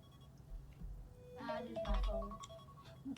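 A phone ringtone chirps briefly in the middle of a quiet room recording, a short melodic burst with faint background murmur around it.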